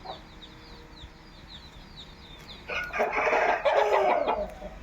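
Chickens cluck softly in the background, then a rooster breaks into loud, harsh squawking and clucking as two roosters fight.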